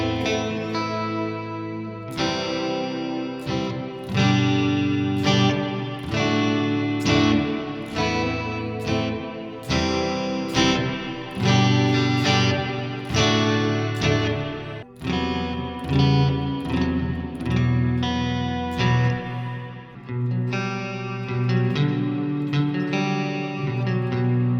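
Electric guitar played in a clean tone through a Neural DSP Mark IIC+ amp plugin, a steady run of picked notes and chords with chorus-like shimmer and reverb, loud and close with no talking.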